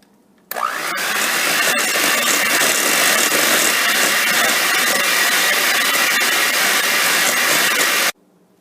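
An electric mixer whisks eggs into saffron and cardamom cookie batter, starting abruptly and running as a loud, steady whirring drone for about eight seconds before cutting off.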